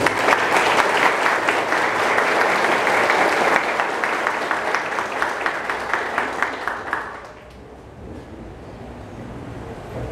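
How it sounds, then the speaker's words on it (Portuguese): A church congregation applauds during a Mass for the feast of Christ the King, loud continuous clapping from many people that thins into scattered claps and fades to quiet room tone after about seven seconds. "inclusive as palmas então para ele"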